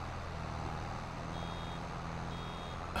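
Slow, evenly spaced reversing beeps from a farm vehicle in Farming Simulator 22 during silage work, two faint tones sitting over a steady low engine rumble.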